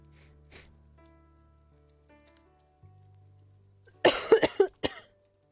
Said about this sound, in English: This cough will not give up now.